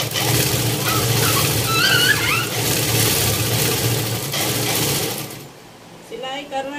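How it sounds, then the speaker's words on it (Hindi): A home sewing machine stitching with a loud, steady, close mechanical whir that runs continuously, then cuts off near the end as a voice briefly speaks. "और हम भी चल रहे अपनी मशीन पे, हमारी मशीन सिलाई करने और हम करेंगे अपनी सिलाई थोड़ी देर।"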